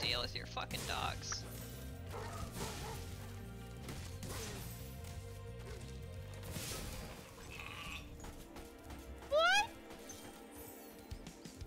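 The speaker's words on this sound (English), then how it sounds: "That's a sheep." A sheep in the video game Spyro Reignited Trilogy gives a brief wavering bleat near the end, heard over game music and effects after stretches of a player talking.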